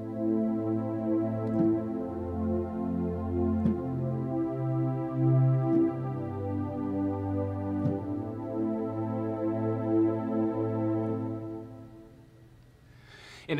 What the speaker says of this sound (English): one of the pads is called Beauty and Breath, and that one is basically just an analog pad